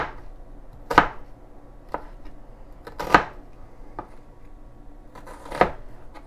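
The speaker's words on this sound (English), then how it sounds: "And then we're going to just cut it." Onion chopped with a knife on a cutting board, a few sharp, spaced thuds at irregular intervals against quiet background.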